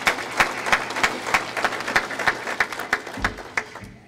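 Sparse, rhythmic clapping from a convention audience at the 2012 SARM rural municipalities convention in Saskatchewan, fairly steady for a few seconds before thinning out near the end.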